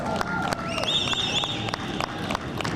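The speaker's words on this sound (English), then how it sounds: "Let's give everybody another round of applause." A crowd at a 2021 Juneteenth flag raising ceremony bursts into dense, sustained applause with rapid clapping, mixed with cheers and high whistles, loud and close.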